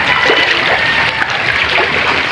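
Flood water surrounding a house after Typhoon Paolo, a steady, close wash of rushing and splashing water that runs continuously without pause.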